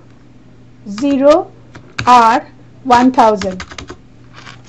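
Keys clatter on a computer keyboard while someone enters a search in SAP software, with short bursts of clicking heard beneath a person talking.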